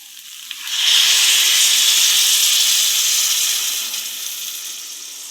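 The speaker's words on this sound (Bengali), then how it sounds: "এবার আমরা জল দিয়ে দিচ্ছি পরিমাণ মতন।" Water poured into a pan of frying vegetable curry with egg, potato and cauliflower sets off a sudden loud hissing sizzle that holds steady, then eases slightly toward the end, with no voices.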